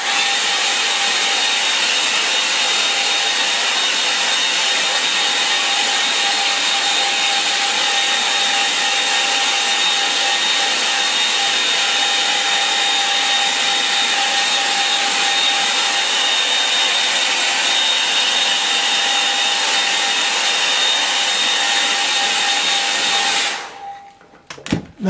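A hair dryer dries a watercolour landscape painting, blowing as a loud, steady whine and rush for over twenty seconds before cutting off abruptly near the end.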